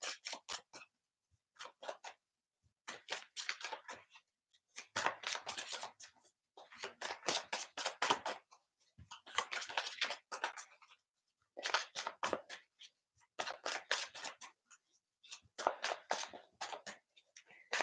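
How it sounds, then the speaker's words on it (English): A deck of playing cards is shuffled repeatedly at close range, with quiet crisp riffling bursts separated by short pauses, the sound soft and faint. "Couple more shuffles, guys, almost there."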